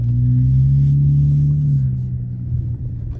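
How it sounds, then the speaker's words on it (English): A Dodge Challenger SXT Plus driving at night, its engine giving a low, steady rumble heard from inside the car, loudest early and easing off slightly toward the end. "Y'all hear that car"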